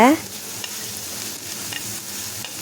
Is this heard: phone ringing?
no